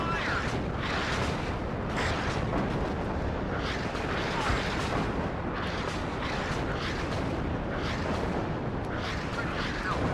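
Heavy artillery rumbles and booms in a tank battle in the wargame WARNO, set at the Fulda Gap, with repeated dull blasts over a continuous roar of battle.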